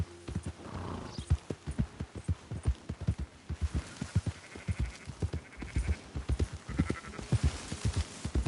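Sheep bleating in the video game Red Dead Redemption 2, several bleats mixed with repeated clip-clop hoof steps from a horse, close and rhythmic over about eight seconds.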